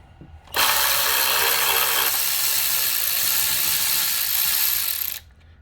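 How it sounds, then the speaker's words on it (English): Bolts come off a Mazda CX-9 throttle body with a motorized ratchet, one steady whirring run of about four and a half seconds, close and loud, with no talking. "you're gonna have to remove the throttle body. It's just 4 bolts."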